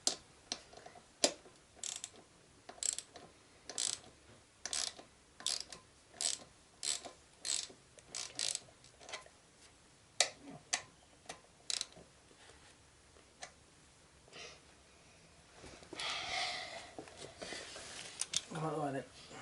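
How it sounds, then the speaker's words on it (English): A torque wrench tightens the brake bolts on a Yamaha XJ6 motorcycle: a series of sharp, close ratchet clicks in irregular bursts, followed near the end by a louder, denser stretch of mechanical noise. "My dad's going to torque them up"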